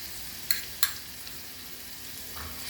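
Vegetables sauté in a pan under a soft, steady sizzle, broken by two sharp scrapes of a spoon stirring near the start.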